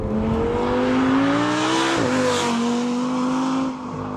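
Audi R8 V10 Plus with its 5.2-liter V10 engine revving loud and close, a steady high-pitched rising howl with a brief dip midway before easing off at the end.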